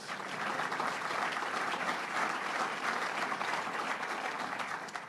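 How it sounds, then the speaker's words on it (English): Sustained applause from a sizable audience, steady and even throughout with no pauses or voices standing out. "Give yourselves a round of applause."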